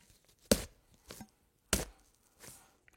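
Fruit and vegetables stabbed for a sound effect, four wet, sharp thrusts in two pairs, close and fairly quiet, with silence between.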